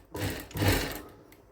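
A sewing machine runs a quarter-inch seam along a 2.5-inch blouse strip in two short close bursts, the second slightly longer, then trails off.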